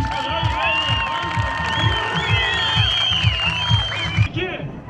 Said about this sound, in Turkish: Hadi alkışlar, hadi